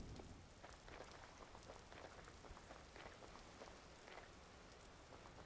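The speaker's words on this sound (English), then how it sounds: "It's raining." Steady rainfall in the video game Vintage Story, a dense, even hiss of drops pattering on surfaces with scattered louder splashes, continuous and fairly close throughout, with no voices.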